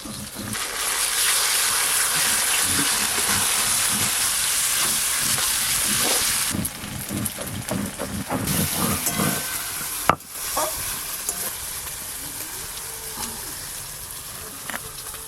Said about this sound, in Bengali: পেঁয়াজ কুচিগুলো অর্ধেক ভাজা ভাজা হয়ে গেছে, এবার আদা রসুন বাটা উপর দিয়ে দিয়ে দেব।